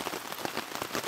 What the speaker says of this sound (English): It's been raining like this for a good 12 hours.